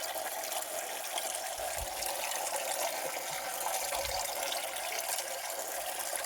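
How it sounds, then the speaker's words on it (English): Water pours steadily from the outlet of a small garden pond's mini waterfall after a filter service, a continuous close splashing wash with no talk. "and get it coming back out of the waterfall."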